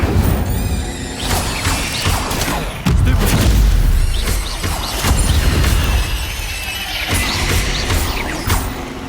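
A fire spell cast in Hogwarts Legacy: loud crackling bursts and booming whooshes with mechanical clatter, a heavy thump near the middle, dense and close throughout with no talking.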